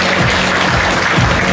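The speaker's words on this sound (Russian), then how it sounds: "и аплодисменты ждут вас" Applause from an audience at a fashion master class in a shopping mall, dense steady clapping that fills the whole moment, loud and close with a low thumping rumble underneath.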